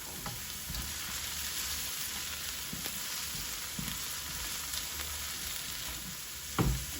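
Green seasoning frying in hot oil for Guyanese fried bora and potato, a steady bright sizzle with occasional soft stir taps and a brief louder clunk near the end, fairly quiet and continuous.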